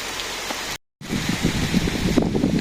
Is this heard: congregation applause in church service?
no